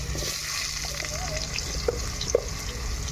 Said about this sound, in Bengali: আমার এখানে কিন্তু ওলকপি আর আলুটা কিন্তু ভালো করে ভাজা হয়ে গেছে